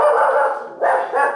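A pet dog barks in welcome at a family home, two or three loud, close, yelping barks in quick succession.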